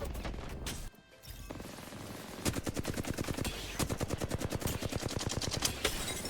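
Gunfire in a battle royale shooter: a steady automatic burst of rapid, evenly spaced shots rattles for several seconds over a loud continuous game din, preceded by a brief lull.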